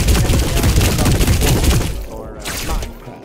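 Rapid bursts of gunfire from the sci-fi shooter video game High on Life, loud and dense for about two seconds before tapering into quieter game sounds.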